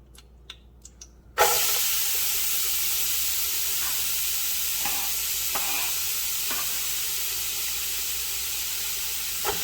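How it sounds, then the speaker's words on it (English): Onions dropped into hot oil for Southern-style collard greens burst into a loud, steady sizzle after a brief quiet start, the hissing holding evenly close by with occasional faint stirring clicks. "now that the oil don't heat it up, we're gonna go ahead and put our onions in"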